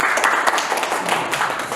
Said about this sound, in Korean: 여러분 박수 한번 주십시오